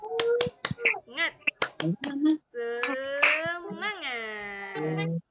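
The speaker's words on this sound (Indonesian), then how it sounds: "Tepuk semangatnya. Tepuk semangat." A class doing a rhythmic spirit clap in an Indonesian lesson: a quick patterned run of sharp, close claps, then voices shouting together in a sustained call.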